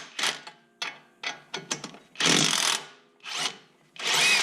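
Control arm bolts on a 2017 Ford Fiesta ST are loosened with a power impact tool, coming as a series of short staccato bursts followed by longer sustained rattling runs, close and loud with no speech.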